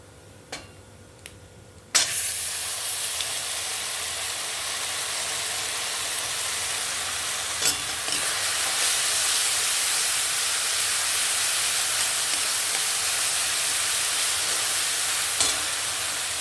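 Masala paste drops into a hot pan of oil tempered with dried red chillies and nigella seeds for an okra curry. After a quiet start and a few small clicks, a loud sizzling hiss erupts and holds steady, swelling slightly.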